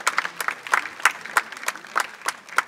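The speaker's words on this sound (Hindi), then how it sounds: "जोरदार तालियां" Applause from a concert audience after vocals, sitar and tabla, a loose, uneven scatter of claps with distinct sharp hits rising and falling in bursts, fairly close and moderately loud.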